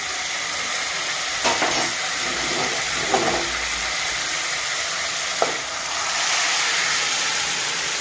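Steady oily sizzling of a tempering of spices frying in hot oil, with a few sharp crackles and pops rising over the hiss and no voices.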